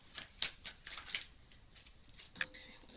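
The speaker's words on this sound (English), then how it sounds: "I need to get my shuffle game out, right?" Tarot cards shuffled by hand in a quiet room, a quick run of soft papery riffles and slaps, a few louder snaps among them, close up with no talking.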